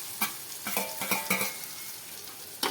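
Potatoes tossed into hot oil and stirred, a bright close sizzle with several quick scraping strokes of a spoon against the pan over a few seconds.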